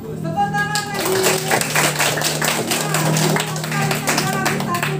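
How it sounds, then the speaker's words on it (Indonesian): A class of elementary school pupils claps steadily for several seconds, a dense patter of hand claps with some voices and background tones mixed in. "Tepuk tangan lagi."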